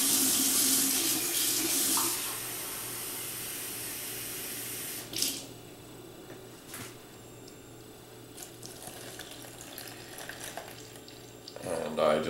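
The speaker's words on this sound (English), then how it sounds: "I'll get some hot water" Hot tap water gushes loudly into a container in a kitchen where Polish Easter babka is being made, then cuts off, leaving a low hum with occasional clinks and knocks.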